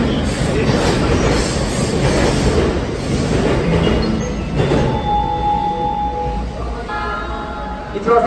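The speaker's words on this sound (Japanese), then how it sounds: "電車到着しております。" A Chuo Line rapid train bound for Kawaguchiko rumbles and clatters into a Tokyo station up close, with wheels squealing as it slows, steady loud noise throughout.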